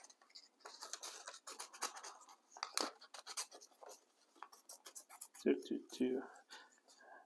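Scissors cutting out a small knob for a 3D paper craft Valentine spin message box, giving a run of crisp, dry snips and paper rustles close by, with a few louder handling knocks near the end.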